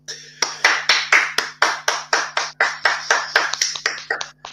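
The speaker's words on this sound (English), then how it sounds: "round of applause for the big Austrian" A round of applause at a wrestling awards show, though it sounds like a single pair of hands clapping close up in a steady rhythm, about twenty claps over a low electrical hum.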